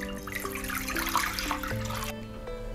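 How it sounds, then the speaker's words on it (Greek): Lukewarm water poured into a bowl for a dough, a steady splashing stream, close and moderately loud, then a brief quieter tail. "Σε ένα μπολ θα ρίξω 550 γραμμάρια χλιαρό νερό"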